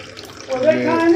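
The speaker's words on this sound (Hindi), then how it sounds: "ये टेप वाटर" Tap water streaming from a faucet next to a small UF water filter plant, a short bright splash of running water that swells after the first half second, with a voice speaking over it.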